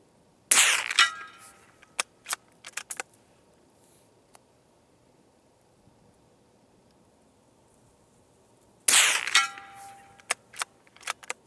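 Ruger American rimfire rifle shooting Federal Champion bulk ammo at a 6-inch steel plate at long range: two sharp, fairly loud cracks separated by quiet, each followed by several small, faint metallic ticks.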